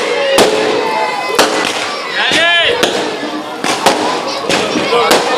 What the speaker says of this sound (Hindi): भैया थोड़ा रुक जाओ, पटाखा मत फोड़ो।